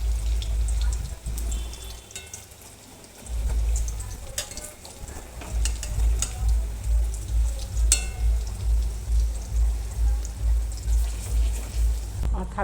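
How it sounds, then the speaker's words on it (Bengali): Thankuni (pennywort) leaf fritters frying in a pan, a loud close sizzle with rhythmic pulsing bursts as the batter bubbles in hot oil, with no talking. "আমার থালকুনি পাতার বড়া ভাজা হয়ে গেছে"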